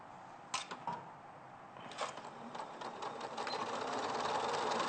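Sewing machine running in short bursts then a longer steady whir as fabric is back stitched at a quarter-inch seam during quilting, close and clear with no talk.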